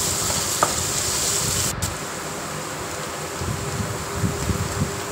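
Chopped ginger and garlic hit hot oil already holding cumin seeds, bay leaf and cinnamon, giving a steady close sizzle with a brief stir partway through.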